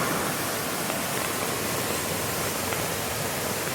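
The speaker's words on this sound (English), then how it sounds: "That's fast moving water." Steady, dense rushing of a fast-flowing tributary stream on a rainy Great Smoky Mountains trail, a constant broadband roar with no pauses.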